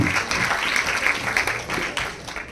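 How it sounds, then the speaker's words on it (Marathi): A crowd at an honouring ceremony breaks into vigorous, sustained applause, a thick, even wash of many hands clapping at close range throughout. "जोरदार टाळ्यांच्या कडकडाटामध्ये तुम्हाला सर्वांनी"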